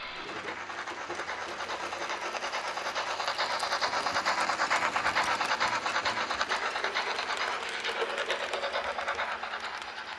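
A small model steam locomotive, a Märklin S 3/6 class 18.4 express engine, chugs steadily along the track with a fast rhythmic clatter, growing louder toward the middle and easing slightly at the end.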